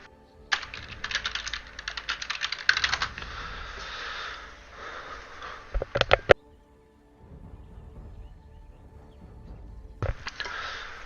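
Fast bursts of typing on a computer keyboard during an online game, loud and close, with dense clacking runs, a short pause near six seconds, then another burst at the end.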